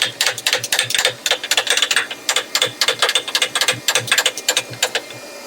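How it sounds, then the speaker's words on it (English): Milling machine Y axis unlocked and the table pushed back by hand with the power feed disengaged, giving a rapid run of dry mechanical clicks and ratcheting ticks, close and fairly loud. "I'm going to unlock my Y, push it back there, disengage my power feed."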